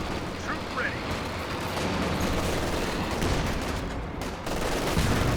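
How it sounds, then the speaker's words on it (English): Artillery barrage in Company of Heroes 2, a 2v2 real-time strategy match, heard as a continuous dense roar of shelling and gunfire with rolling blasts that swell slightly toward the end. "Scott coming in with a barrage, double tank guns escorting it."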